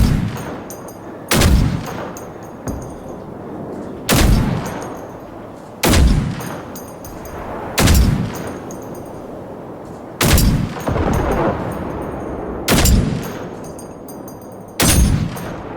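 Gunfire in the shooter game Generation Zero, aimed at a robot: loud single shots crack roughly every one to two seconds, each followed by a short rumbling echo, with no talk over them.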